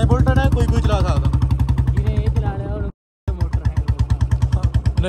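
Old Royal Enfield Bullet motorcycle engine idling nearby, a loud steady thumping beat with a brief dropout midway, over a village outdoor setting.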